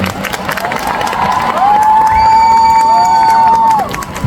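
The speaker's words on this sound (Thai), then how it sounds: "ขอเสียงปรบมือ" A crowd cheers and claps loudly and continuously, with a whistle-like tone rising above the noise for a couple of seconds.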